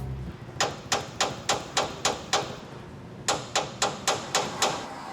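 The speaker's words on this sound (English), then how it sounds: "you can reach down and just give them a couple taps sometimes, and just with the corrosion, it'll fall off the armature and the brushes" Repeated light hammer taps on an old motor from a Ford Tri-Motor aircraft, knocking to free corroded brushes from the armature; about fourteen sharp metallic knocks in two quick runs, close and clear.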